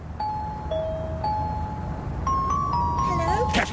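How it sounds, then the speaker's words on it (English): Electronic door buzzer or bell chimes at the entrance of a house attached to St. Mary's Mixed Infant School, a series of clear tonal beeps and ding tones of varying pitch over a low background hum, with a brief rustle near the end. "You've pressed the wrong bell."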